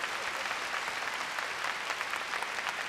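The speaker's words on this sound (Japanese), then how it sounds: "他の部屋でテレビを見ている方に励ましの拍手を捧げましょう。" A large gathering of about three thousand people at a church evangelistic rally in Sapporo applauds in encouragement, a steady, dense wash of clapping heard from a distance and held at an even level.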